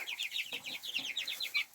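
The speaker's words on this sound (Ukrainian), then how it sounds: "Подивіться, які славні курчата." Month-old chicks in a warm brooder cluck and peep in rapid, overlapping high calls that carry on steadily at close range, with no talk over them.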